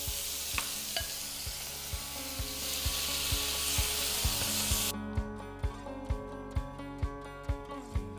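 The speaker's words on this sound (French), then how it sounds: "On va saisir les cubes de bœuf dans une poêle bien chaude avec un petit fond d'huile." Beef cubes sear in a thin layer of oil in a very hot pan, a steady broad sizzle at first, then a run of regular scraping stir strokes against the pan over a quieter fry.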